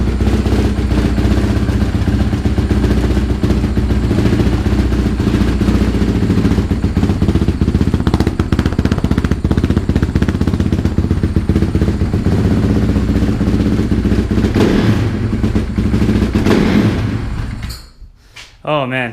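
A newly bought motorcycle's engine running outdoors on a cold day, a loud steady rumble filling most of the clip before cutting off abruptly near the end.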